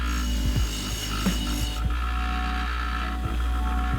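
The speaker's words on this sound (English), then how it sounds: "I'm just taking this to the wire brush to take off a lot of the heavy rust." A bench-grinder-mounted wire brush scours heavy rust off an old hand tool, giving a steady loud whir with a constant motor hum under repeated scraping rasps as the metal is pressed against the spinning bristles.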